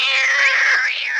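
A single drawn-out cat meow, close and loud, voicing the cat brawler Kit from the game Brawl Stars, heard alone with no speech.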